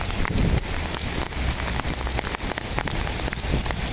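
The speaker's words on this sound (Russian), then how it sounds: "Град!" Dense pattering of small hailstones striking surfaces all around during a thunderstorm downpour in Moscow, May 2019, a steady loud clatter with sharper individual impacts throughout.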